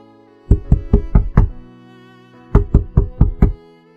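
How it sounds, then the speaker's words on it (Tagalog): Knuckles rap on a study room door in two firm sets of about five knocks each, close and distinct, separated by a pause of roughly a second. "Katok ni Jasmine sa study room ng kanyang asawa."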